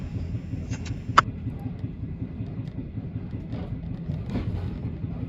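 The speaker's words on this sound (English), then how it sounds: "You may notice we kind of have a sound. You think, what's that? It's actually a wheel flat." On The Overland train from Melbourne to Adelaide, a wheel flat thumps repeatedly on the rails under a low, steady rumble of the carriage and wind noise, with no talking.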